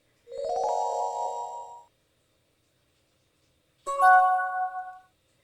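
A phone ringtone plays in the video game How To Date A Magical Girl: two loud, clean melodic chime bursts, each lasting about a second, separated by a couple of seconds of silence.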